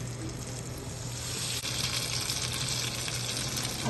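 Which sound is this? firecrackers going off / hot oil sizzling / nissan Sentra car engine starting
hot oil sizzling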